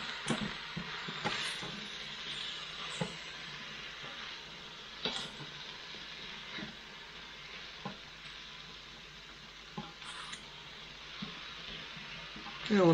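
Noodles cook in a single pot with peanut butter chili tamari sauce, sizzling steadily up close while a utensil stirs, scrapes and taps the pot at intervals, with a voice speaking over it.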